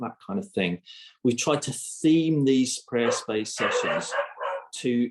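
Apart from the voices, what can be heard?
dog barking outside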